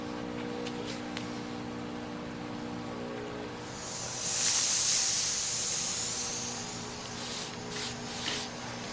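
Steam hissing from a red stain remover tool used on carpet, a steady broad hiss that swells louder for a few seconds in the middle before settling back.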